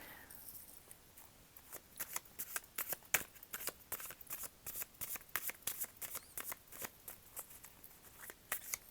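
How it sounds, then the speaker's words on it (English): Rapid, crisp riffling of tarot cards, repeated in quick bursts with sharp snaps, close by and steady throughout with no talking. "Sorry, just shuffling."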